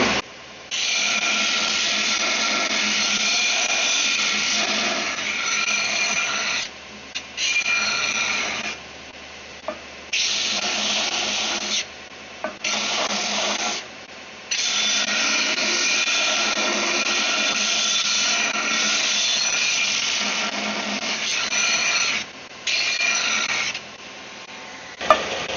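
A Jet 48x6 belt sander with a 1.5 horsepower motor runs steadily, broken by short gaps, and winds down with a continuous mid-loud whir heard alone.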